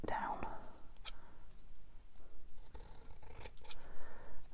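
Scissors trimming a paper topper for a junk journal cover: soft close snipping and rustling cuts in an irregular rhythm, with a quiet whispering voice.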